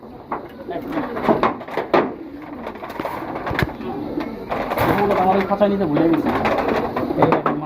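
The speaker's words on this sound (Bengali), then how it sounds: "খুব সুন্দর একটা লাল গিয়ারের কবুতর" A red-chequered pigeon coos in low, rolling calls close by, mixed with cage rattles and bumps while someone talks over it.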